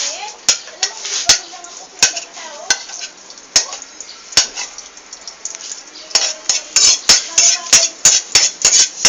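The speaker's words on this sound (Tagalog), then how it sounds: "saute the garlic" Garlic sautéing over medium heat in a pan used earlier for frying tofu, a steady sizzle broken by sharp, repeated clinks of a utensil stirring against the pan, growing quicker toward the end.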